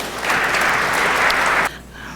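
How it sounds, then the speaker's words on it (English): A conference audience applauds a policy panel at the close of the session, with dense, even clapping that builds quickly, holds steady and cuts off sharply before a quieter room tone. "Please, a round of applause for them."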